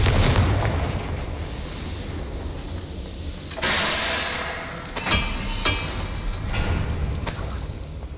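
Confringo blasting spell explosions in Hogwarts Legacy, a loud broadband blast erupting near the middle and followed by several sharper bursts and booms over a rumbling game soundscape.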